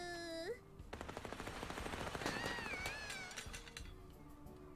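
Rapid automatic gunfire in a video game rattles out as a fast, even run of sharp shots. The shots are preceded and then overlapped by high, wavering meow-like tones, and the fire fades into a softer tail.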